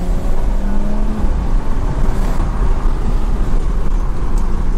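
A BMW F30 340i with a catless downpipe and electronic wastegate accelerates, giving a loud, steady engine drone that stays close and continuous throughout, with no talking over it.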